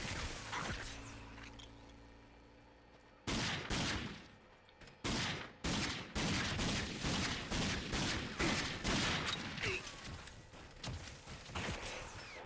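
Repeated gunfire in the video game Rage, with sharp loud shots in an uneven rapid series after a quiet opening, each crack ringing out briefly.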